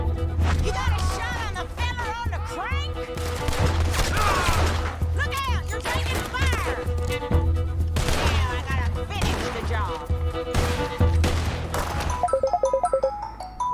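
Rapid bursts of gunfire crackle in Red Dead Redemption 2 over busy game sound effects and music, with repeated sharp shots throughout.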